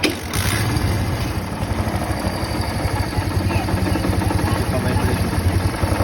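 A motorcycle engine with a worn crankshaft bearing runs continuously at idle, a steady rough throbbing close by, with a brief voice near the start.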